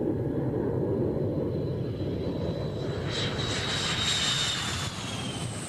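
A Russian MiG-29 fighter jet on takeoff gives a continuous low engine rumble with a thin rising whine, steady and sustained at moderate distance, with no voices.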